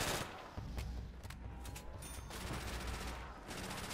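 Video game gunfire from World at War Nazi Zombies cuts down zombies in dense, rapid bursts of shots, loud and continuous throughout.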